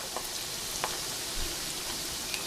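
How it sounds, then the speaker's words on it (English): Steady crackling sizzle of breaded pork chops frying in a pan, soft and even, with tiny pops scattered throughout and no talking. "I'm just gonna put them in very gently. And you hear that sizzle."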